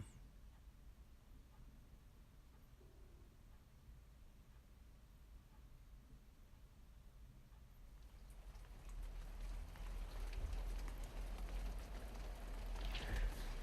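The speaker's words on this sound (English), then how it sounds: "here I am wandering around in the rain" Steady rain falls in a wrecking yard, soft and faint at first, then growing louder and denser in the later part with a broad hiss, with no talking over it.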